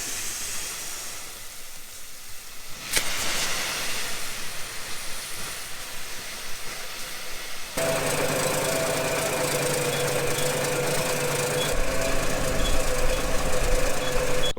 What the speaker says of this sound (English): this is only a half-ton spreader